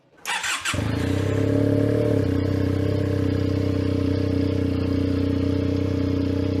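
A Benelli 252R motorcycle engine fires up close by and settles into a loud, steady, throbbing idle that holds without pause.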